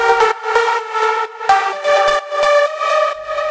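A soft, sustained Nexus synthesizer preset pad with layered harmonic tones, phrases shifting every second or so, steady and mellow with no voices.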